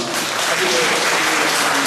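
A dense, steady burst of applause from a church congregation at a Korean church gathering in Rome. It fills the whole moment at close range and stays loud throughout.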